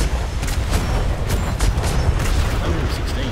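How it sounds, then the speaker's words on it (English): Heavy ship cannons boom in the Atlas video game, a dense run of low, rolling blasts layered with broadband crackle across a few seconds, loud and continuous with a voice speaking over the barrage. "Fire! Fire all the cannons!"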